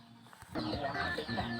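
Farmyard chickens cluck faintly in the background while someone talks over them at close range.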